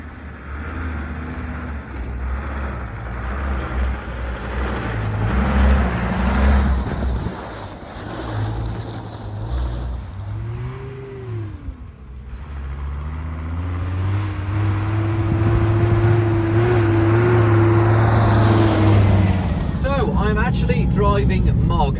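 A Mercedes Unimog camper truck's engine drones steadily while driving, rising and falling in pitch as it shifts through gears, heard from inside the cab with a person talking over the rumble.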